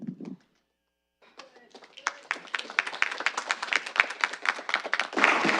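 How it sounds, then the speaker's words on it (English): A brief spoken word, then a pause, then clapping from the public gallery at a committee meeting builds into a burst of applause that grows denser and louder toward the end. "we can't have clapping in the gallery"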